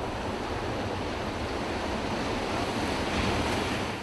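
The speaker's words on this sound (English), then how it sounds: "Waves are crashing over the 8-foot-high jetty near the Santa Cruz Harbor, sending foamy white water splashing high into the air." Large waves from an 8-foot surf crash over the jetty at Santa Cruz Harbor, a steady, loud roar of surf and spray mixed with wind noise and no voices.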